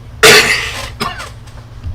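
A single sharp, close cough bursts out, followed by a couple of fainter throat-clearing sounds.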